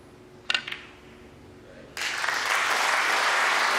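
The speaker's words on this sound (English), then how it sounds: "Richly deserved applause." After a couple of faint clicks, a snooker crowd at the English Open breaks into steady, sustained applause for a century break that swells and continues to the end.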